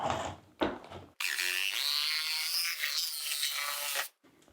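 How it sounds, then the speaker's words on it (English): A jigsaw cuts vinyl shake siding in one loud, continuous, rising buzz lasting about three seconds, framed by a few brief handling scrapes and knocks before and after. "So I can cut these with the jigsaw again."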